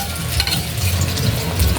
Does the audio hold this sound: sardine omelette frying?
yes